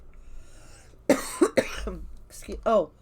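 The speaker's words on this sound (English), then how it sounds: "I need a drink before I cough" A person coughs a few times in quick bursts, close to the microphone, with some throat sounds between the coughs.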